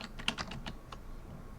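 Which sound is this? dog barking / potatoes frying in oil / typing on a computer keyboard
typing on a computer keyboard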